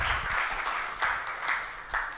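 A small audience at a conference livestream gives a round of applause after a presentation, a moderate patter of clapping with a few sharper claps standing out.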